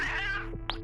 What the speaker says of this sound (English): The passcode is meow.